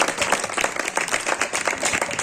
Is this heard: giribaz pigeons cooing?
no